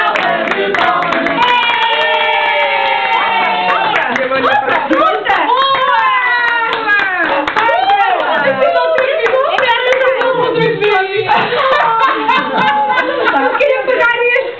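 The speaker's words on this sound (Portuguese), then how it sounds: "Para o menino lá, uma salva de palmas." Clapping at a child's birthday party, quick hand claps mixed with lively overlapping voices and children chattering and calling out over it throughout.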